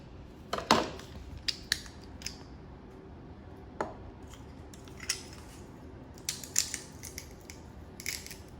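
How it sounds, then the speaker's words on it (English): A hand-held garlic press squeezes garlic cloves, producing a series of sharp metallic clicks and crunchy squeezes scattered in short bursts against a quiet room, with no talking. "I'm gonna press the garlic. So using the garlic press like we did in the other video"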